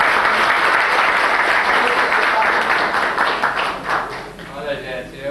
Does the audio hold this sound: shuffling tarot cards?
no